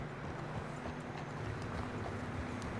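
Horse running through snow in the video game Red Dead Redemption 2, fairly faint rhythmic hoofbeats over a steady windy rush.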